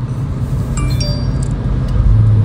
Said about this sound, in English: Yeah, it took a minute for it to downshift.